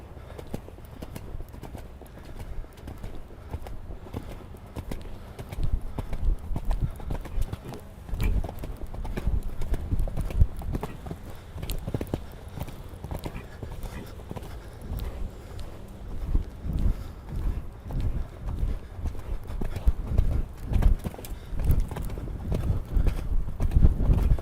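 A horse's hooves clip-clop steadily through a riding arena during a schooling session, rhythmic thuds of moderate loudness continuing throughout, with occasional faint voices in the background.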